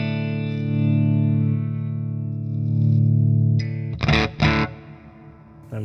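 An electric guitar plays through a BluGuitar AMP1 Iridium or Two Notes ReVolt analog amp pedal with the clean channel cranked loud, giving long sustained chords followed by a few sharp, percussive strums.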